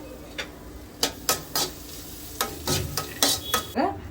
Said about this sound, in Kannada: ತೆಂಗಿನಕಾಯಿ ತುರಿಯೆಲ್ಲ ಈ ತುಪ್ಪದಲ್ಲಿ ಮಿಕ್ಸ್ ಆಗೋವರೆಗೂ ಫ್ರೈ ಮಾಡ್ಕೊಂಡಿದ್ದೀವಿ